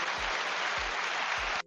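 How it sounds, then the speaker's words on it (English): Studio audience applause opening a live Friday-afternoon crypto news show, a dense steady wash of clapping at close range that cuts off sharply at the end, with low thumps recurring underneath. "Let's give it a clap"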